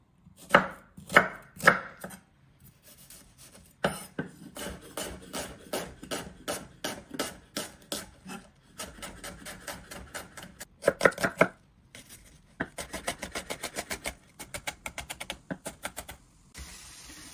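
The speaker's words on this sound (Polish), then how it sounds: "Cebulę pokroję w kostkę." A knife dices an onion on a cutting board, chopping rapidly in quick bursts of dense taps with short pauses between runs, close and crisp.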